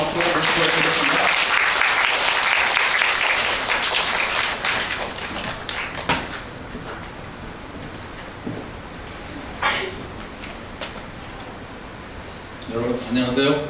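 An audience at a Korean public science lecture claps to welcome the speaker, a dense, loud burst of applause that fades after a few seconds, followed by quieter room noise, a brief tap, and renewed clapping near the end.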